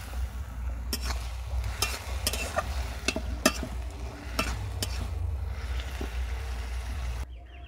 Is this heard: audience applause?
no